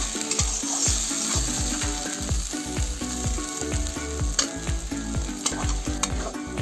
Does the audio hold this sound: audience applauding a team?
no